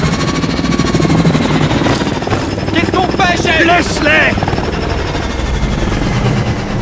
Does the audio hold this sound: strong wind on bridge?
no